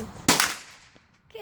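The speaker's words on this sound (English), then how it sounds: "You're gonna shoot 2 3/4 slugs" A single sharp blast from a Remington 870 Black Hawk Gen 3 style 12-gauge pump shotgun firing a 2 3/4 slug outdoors, a loud broadband crack that decays quickly into quiet, with a faint voice starting at the end.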